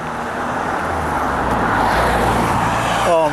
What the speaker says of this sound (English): there's still quite a lot of traffic